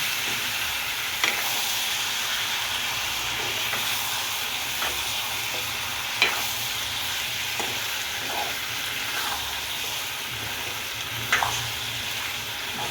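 Peas and potato sabzi frying in a pan and being stirred, a steady close sizzle and hiss throughout with occasional spoon taps and scrapes against the pan, no talking.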